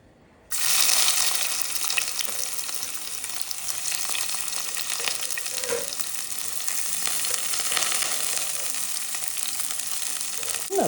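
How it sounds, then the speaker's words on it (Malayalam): Garlic, shallots, ginger, curry leaves and sliced chillies hit hot oil with a sudden loud sizzle that keeps hissing steadily, with occasional stirring scrapes, close up and without talk. "ഇതാ നമ്മൾ മുറിച്ച് വെച്ച വെളുത്തുള്ളി, ചെറിയ ഉള്ളി, ഇഞ്ചി, കറിപ്പത്ത ആൻഡ് നീളത്തിലരിഞ്ഞ മുളക്. ഇതെല്ലാം നമുക്കിപ്പോൾ ഈ എണ്ണയിൽ ഇടണം."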